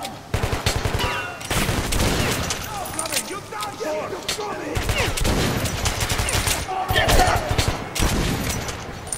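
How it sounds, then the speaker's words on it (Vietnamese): Dense gunfire from the video game Metro: Last Light Redux rattles in rapid bursts and sustained automatic volleys, loud and close, with someone talking over it. "Súng gì hãm vậy?"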